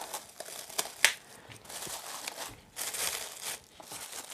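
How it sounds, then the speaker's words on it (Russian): Light crinkling and rustling of a thin plastic bag being put over seedlings in short irregular bursts, close and fairly quiet, with no talking. "надеваю пакетик"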